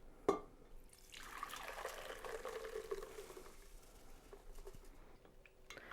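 Homemade RumChata liquid strains through a strainer, a soft continuous patter and trickle of liquid with a brief clink at the start, fairly quiet and close, with no talking.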